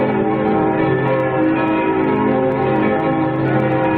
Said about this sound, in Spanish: da orden de que atrone los aires con la campana de su capilla